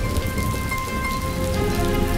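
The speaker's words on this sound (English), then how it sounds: "It's raining." Steady rain patters on a hard surface, a dense continuous hiss with scattered drops, close and fairly loud with no voices.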